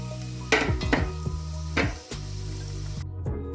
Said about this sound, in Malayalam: ആ സെയിം എണ്ണയിലോട്ട് തന്നെ സവോളയും കൂടെ ഒന്നിട്ട് വറുത്തെടുക്കാം